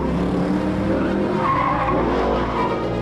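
A petrol Mercedes-Benz SLS AMG slides with its tires skidding and squealing over a loud, continuous engine roar, close and steady for the whole stretch with no talking.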